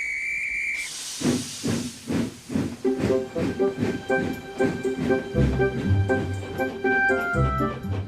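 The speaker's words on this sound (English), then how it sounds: "Soon, Emily was steaming up hills and through valleys." A Tomy toy steam engine runs with a hiss of steam, then rhythmic chuffing puffs that settle into a steady run under a bright melodic music track.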